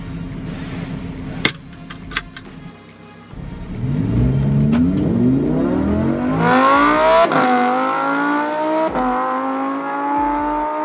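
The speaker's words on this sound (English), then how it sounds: "I'm just gonna roll into it, accelerate from first to a few gears" A 2015 Lamborghini Huracan LP 610-4 makes a rolling launch, its engine building loud and close as it climbs through gears, with rising revs cut by sharp breaks at each upshift.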